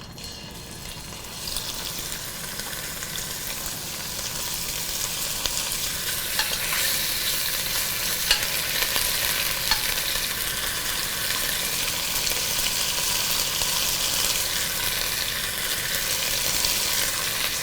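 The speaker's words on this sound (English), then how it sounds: "it's nice to hear that sizzle" Meat browns in a hot pan, giving a steady, dense crackling sizzle that keeps up evenly and close throughout, with no talking over it.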